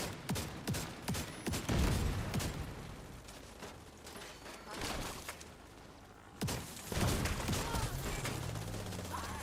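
Rapid, dense shotgun blasts in The Division 2 from a heavily armored shotgun tank build, loud booming volleys nearly continuous with a brief lull, then resuming amid game mechanical noises.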